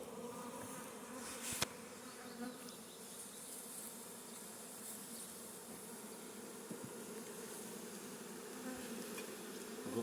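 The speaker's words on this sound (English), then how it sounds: "quite a lot of bees in here, still in the nuke box." Honeybees fill a nuc box with a steady, dense buzzing that holds for the whole stretch, close and even. A brief voice and a couple of small knocks sit over it.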